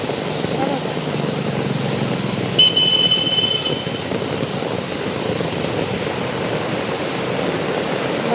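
Cars driving through water on a flooded road in heavy rain: a steady wash of splashing and rushing water with an engine hum passing nearby, a brief higher whine midway.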